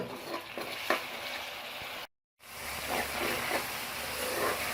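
Tomatoes, green chillies and onions frying in a pan for a zucchini curry, a steady close sizzle with light stirring scrapes, broken by a brief moment of silence before the frying resumes.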